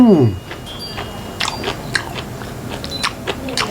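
Crunchy Thai food, a spicy dish of crispy fried pork or offal, being bitten and chewed up close, with a low hum at the start followed by a series of sharp crackling crunches at irregular intervals.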